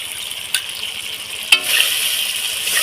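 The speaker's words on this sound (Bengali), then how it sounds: "মশলাটাকে আবার সুন্দর করে কষিয়ে নেব" Spice masala with sour yogurt sizzles and fries steadily in a pan, with a couple of sharp utensil knocks as it is stirred, the hiss swelling louder after the second clack.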